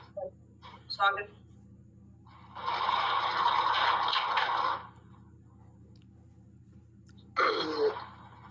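A person clears their throat a couple of times, then a long rough rasping hack follows, and another harsh clearing comes near the end.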